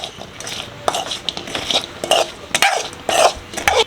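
Fried chicken pieces being stirred into a honey masala in a pan for a honey and ice cream chicken fry, with close spoon scrapes and clinks against the pan in irregular bursts.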